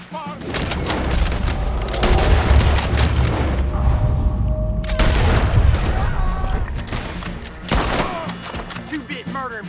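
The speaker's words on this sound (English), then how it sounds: "We need to take out that cannon!" In the video game Red Dead Redemption 2, a battle rages with repeated heavy cannon booms and bursts of rapid gunfire, loud and dense throughout, with shouted voices mixed in.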